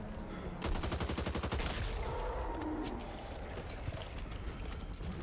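Rapid submachine gun fire in a video game, a dense burst of quick evenly spaced shots that stops after about a second and is followed by softer game noise.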